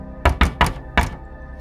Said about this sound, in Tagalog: Halos malaglag ang puso ko nung biglang may kumatok sa aking bintana.